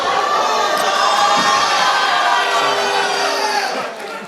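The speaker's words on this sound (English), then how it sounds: "Why are you booing him?" A studio audience at a daytime talk show boos loudly and steadily as a guest is introduced. The roar of many voices holds for several seconds, then eases slightly at the end.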